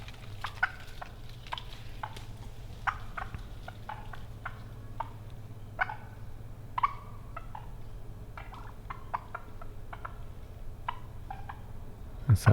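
Wild turkeys roosted in trees give short, scattered nervous clucks that are faint and fairly distant over a low steady rumble, in a quiet outdoor setting with no talking.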